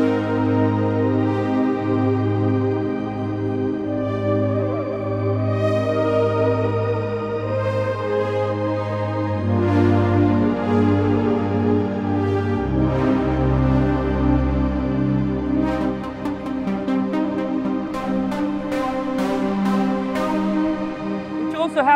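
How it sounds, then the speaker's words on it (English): Yamaha Montage M synthesizer playing a Cosmic Pad to Pluck patch: a sustained, evolving pad with rich harmonics shifting between chords, gradually morphing into brighter, rapid plucked notes toward the end, with no talking. "this sound is called Cosmic Pad to Pluck"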